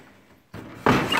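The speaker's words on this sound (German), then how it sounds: "Ich mache hier mal kurz die Tür zu." A door is pushed shut indoors in a house, a brief scrape followed by a solid, close thud, with no talking.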